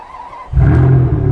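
A 2008 Ferrari 612 Scaglietti V12 engine cranks briefly, then catches and bursts into a loud, deep roar that holds steady close by.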